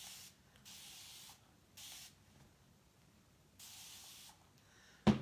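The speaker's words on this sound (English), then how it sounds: "going to just spray it" Spray bottle squirting cleaner onto a screen, four short hissing bursts with pauses between, fairly quiet and close, ending with a brief louder knock.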